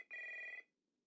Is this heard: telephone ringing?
yes